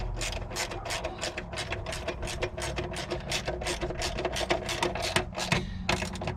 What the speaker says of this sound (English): we'll go ahead and tighten the front one down